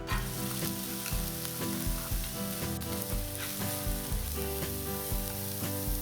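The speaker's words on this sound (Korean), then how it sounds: "프라이팬에 식용유 1테이블스푼을 넣고 양파와 파프리카를 볶아줍니다." Onion and paprika sizzle loudly in a tablespoon of cooking oil in a frying pan, a steady crackling fry with repeated stirring scrapes and no talking.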